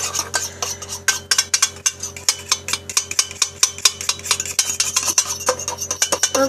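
Spoon or utensil scraping and clinking against a bowl in a steady, quick rhythm as slime mixture with cornstarch is stirred, close and fairly loud with no talking.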